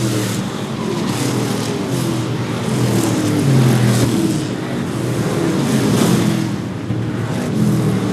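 Street stock race cars run laps at Seekonk Speedway, a steady loud roar of several engines blending together, with engine tones that rise and fall as the cars pass through the turns.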